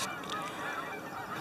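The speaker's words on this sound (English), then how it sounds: "They do this thing where they stand up on their feet in the water and flap their wings, and they make this honking sound." Several geese honk in quick, overlapping calls at moderate distance, no voices present.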